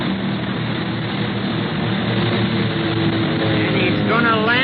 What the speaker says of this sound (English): Look, that other plane's out of control.